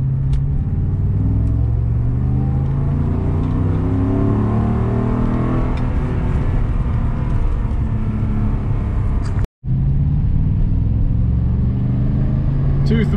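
2007 Shelby GT accelerating hard in second gear, a loud continuous engine roar rising steadily in pitch close by, cut by a brief gap near the end before the drone resumes.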